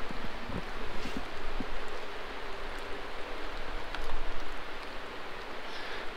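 Steady rain falls at a campsite in Georgia, a constant hiss of drops with light gusts of wind noise and a few soft taps, no talking.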